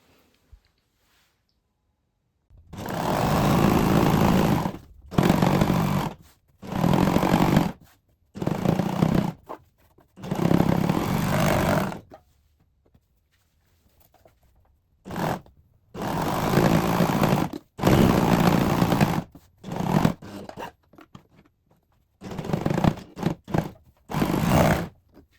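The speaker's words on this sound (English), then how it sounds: "we're just going to overlock exactly along the way that we've sewn before for both" Overlocker stitching along a fabric edge for shorts, loud mechanical whirring in repeated bursts of a few seconds each, separated by short silent pauses.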